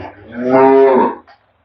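A dairy cow at a farm lets out a single long, loud moo close by, rising and fading over about a second, with no talk over it.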